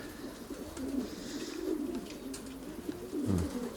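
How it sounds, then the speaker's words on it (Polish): Pigeons coo in low, rolling murmurs, several overlapping calls close by, continuous over soft background noise. "Czekamy na kolejne gołębie."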